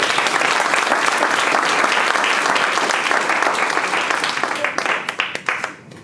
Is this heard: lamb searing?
no